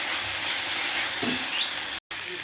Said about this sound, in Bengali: হলুদটা দিয়ে দিলাম, নাড়াচাড়া করে নেব।